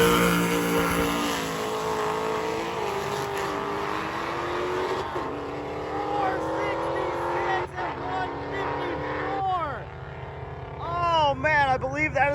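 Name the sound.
drag racing car making a fast pass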